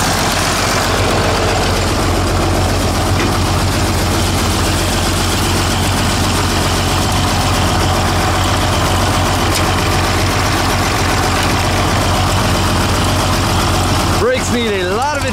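Six-cylinder diesel tractor engine running during a ride, a loud, close, steady rumbling drone that continues without a break throughout.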